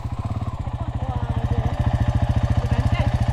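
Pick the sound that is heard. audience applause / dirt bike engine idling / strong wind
dirt bike engine idling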